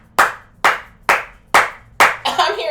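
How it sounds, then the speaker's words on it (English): Five sharp, evenly spaced hand claps ring out close and loud, roughly every half second, followed by a quicker, messier burst of clapping at the end. "I'm hearing like claps and shit"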